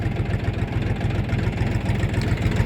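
A Kentavr 244SX Chinese mini tractor's engine runs steadily at close range, a loud, even mechanical drone with no speech over it.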